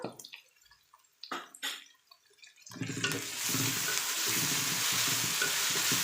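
Freshly pounded ginger-garlic paste fries and is stirred in a hot pan for mushroom fried rice. A few scrapes and clinks come first, then a loud, steady sizzle sets in close by and runs to the end with no voices.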